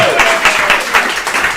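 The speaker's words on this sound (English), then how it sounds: "Applause for Comrade Howard." Loud applause from a room full of people, steady dense clapping heard up close.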